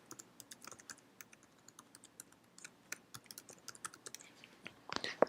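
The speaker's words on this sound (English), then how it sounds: "Type in your password and type in your email address." Fingers tap on a computer keyboard at a quiet desk, irregular clusters of light key clicks entering a password and email address, with a louder burst of keystrokes at the end.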